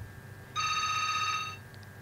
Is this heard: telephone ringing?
yes